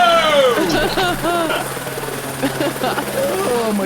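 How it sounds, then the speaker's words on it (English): A helicopter flies close to a house, its rotor and engine a loud, steady thrumming drone throughout, with people shouting and talking excitedly over it nearby. "I can't fly this goddamn helicopter."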